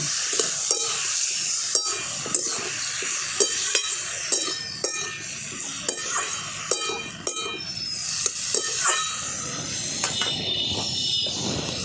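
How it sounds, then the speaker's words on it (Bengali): A spoon stirs and scrapes a masoor lentil mixture with salt, turmeric and three slit green chilies in a pan, giving repeated crisp strokes over a steady low sizzle, close and alone without talk. "এরা সব একসঙ্গে আমি খুব ভালো করে মিশিয়ে নিচ্ছি"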